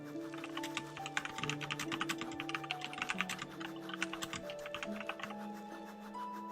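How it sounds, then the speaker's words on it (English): Fast typing on a mechanical keyboard with red linear switches, quick close clacks in steady bursts over quiet background game music, loud and clear. "here's what my keyboard sounds like."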